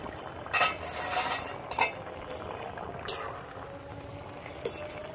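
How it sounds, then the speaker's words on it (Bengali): Boiled arum root (mankochu) is stirred in a metal pot: scattered bright clinks of a spoon against the rim, irregularly spaced, over a faint bubbling, liquid background. "একটু নাড়িয়ে দেবো।"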